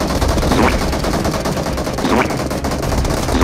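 Sniper rifle fire from an M24 in PUBG Mobile (Game for Peace), loud gunshots in a dense, noisy battle mix with overlapping shots and rumble.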